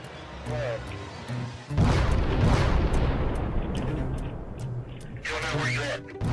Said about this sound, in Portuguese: a escala massiva da explosão fica terrivelmente óbvia